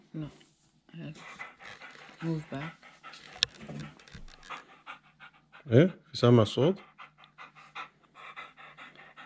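A toy dog pants in quick mechanical bursts, with a few whimpers, while people talk over it nearby.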